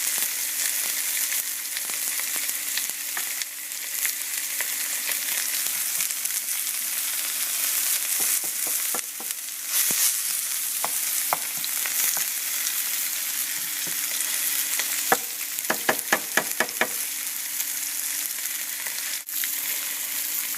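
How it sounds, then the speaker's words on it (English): Swordfish searing in a hot pan, a steady bright sizzle throughout with occasional sharper crackles and spits, loud and close with no voices. "take that and lay that right into the pan like that. Get a sear on it."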